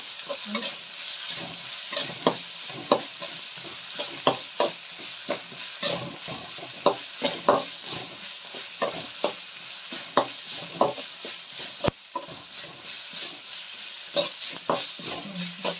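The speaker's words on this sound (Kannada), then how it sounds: "ಹಸಿ ವಾಸನೆ ಎಲ್ಲ ಹೋಗೋವರೆಗೂ ಚೆನ್ನಾಗಿ ಹುರಿಬೇಕು" Ginger garlic paste frying and being stirred in a pan for tomato gojju, with steady close sizzling and repeated scraping stir strokes throughout, no talking.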